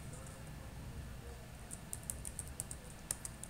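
Soft, quick keystrokes on a computer keyboard as Arduino code is typed, a light irregular clicking over a low hum that gets more distinct toward the end.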